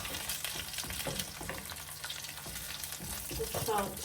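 Fish fried in a pan with no flour or breadcrumb coating, giving a steady, close sizzle throughout with a few brief stirring or turning clatters.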